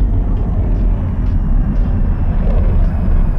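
An F-14 Tomcat jet flying past in a flight simulator, a steady loud low roar and rumble of the engines sustained throughout without speech.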